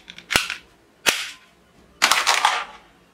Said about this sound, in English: Wow, Indian small plastic toy pistol.